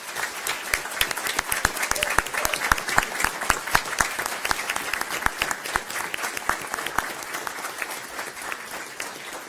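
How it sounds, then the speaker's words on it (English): An audience gives a warm round of applause to a basketball team at a school board meeting, dense steady clapping from many hands filling the room without a break. "If they can please stand so that we can give them a round of applause"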